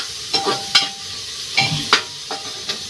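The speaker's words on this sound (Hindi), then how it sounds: "तो गैस में इसमें टमाटर डाल दी हूँ और टमाटर गलने के लिए हल्का सा इसमें नमक में डाल दी हूँ और भुजा रहा है" Tomatoes with a little salt fry in a pan on a gas stove, with a soft steady sizzle under repeated scraping stirs of a spoon against the pan.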